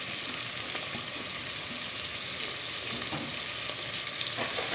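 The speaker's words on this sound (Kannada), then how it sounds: "ಇದನ್ನು ಸ್ವಲ್ಪ ಚೆನ್ನಾಗಿ ಫ್ರೈ ಮಾಡೋಣ." Chopped tomatoes frying in a pan for a vegetable pulav give off a steady, close sizzle that continues evenly throughout, with no talking.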